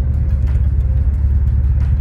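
A 1978 Lotus Esprit S1 with a freshly rebuilt engine and manual transmission drives along, giving a steady low rumble from inside the car with brief faint clicks over it and no talking.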